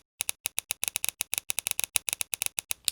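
A pen clicked over and over in a quick, fairly even rhythm, sharp close clicks in a continuous run after a brief silence.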